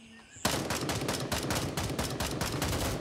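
Rapid automatic gunfire in the shooter game Gray Zone, a sudden loud burst of closely spaced shots that keeps hammering steadily for nearly three seconds after a brief quiet lead-in.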